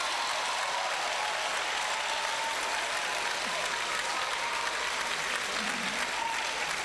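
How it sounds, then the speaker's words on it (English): Sustained round of applause from an audience at a university inaugural lecture, an even, continuous patter of many hands clapping at moderate distance, holding a steady level for the whole stretch with no voices. "a round of applause for Professor Freddy Agoreyo"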